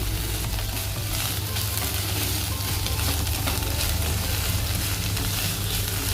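Banana stem curry frying in a pan gives a steady, dense sizzle throughout while being stirred, loud and close, with no voices.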